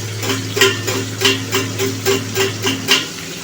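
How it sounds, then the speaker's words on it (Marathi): Tomatoes and fried onion cook in a pan for spicy chutney, a low sizzle underneath regular clinks and scrapes of a spoon stirring against the pan, about six strokes, close with no talking. "आता हे टोमॅटो पण छान मऊ होईपर्यंत शिजवून घेणार आहोत चटणीमध्ये।"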